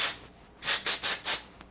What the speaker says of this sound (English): for the hair finishing spray, the Living Proof Dry Volume and Texture Spray.